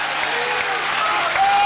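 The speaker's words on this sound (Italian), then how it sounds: "Il pubblico applaude a lungo l'Oristech" A boxing crowd applauds Loris Stecca's win over Lane Killian, stopped when the towel was thrown in. The clapping is loud, sustained and dense, with no pause.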